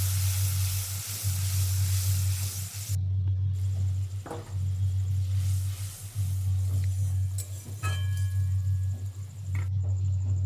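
Ground spice paste sizzles steadily in a pan of fried pointed gourd and ginger, a close, continuous crackle over a low steady hum, with a few brief clinks of a utensil.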